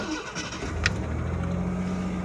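A 1989 Ford Ranger GT pickup engine idles after a tune-up, a steady low rumbling drone with a brief click near the start, heard alone at close range.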